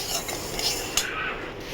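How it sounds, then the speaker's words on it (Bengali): Moong dal dry-roasting in a pan with a steady scraping stir and a soft sizzle beneath, plus a brief clink of a utensil midway. "মুগ ডালটা ভেজে ফিরছি ভালো করে"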